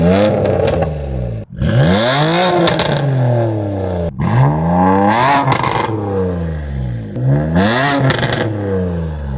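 A BMW F82 M4 GTS with its S55 engine revs hard through its exhaust three times, each burst climbing and falling back, loud and close, with a raspy idle between blips and no talking.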